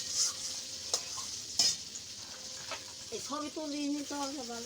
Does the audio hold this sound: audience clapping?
no